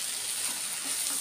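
Godavari prawns frying in a pan, a soft steady sizzle with gentle crackling and no talk over it.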